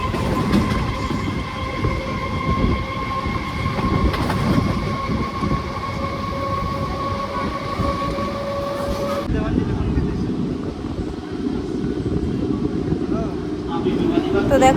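A passenger train rolls steadily along the rails on the way toward Mayapur, a continuous loud rumble with a faint wheel squeal, close by from inside the carriage, with some voices under the noise.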